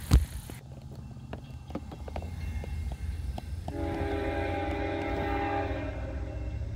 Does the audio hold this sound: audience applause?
no